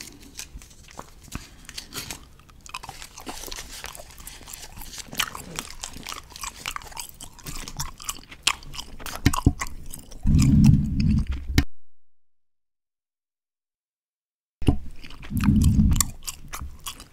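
Several pieces of gum are chewed close to the microphone in an ASMR session, with continuous soft, wet smacking and crunching and a few louder bursts of chewing. A stretch of silence interrupts it.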